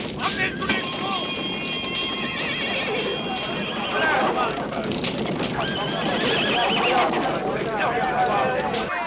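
Horses whinny loudly and hooves gallop in a 1970 western film, the neighs rising over a steady rumble of hoofbeats and commotion, with people shouting in French.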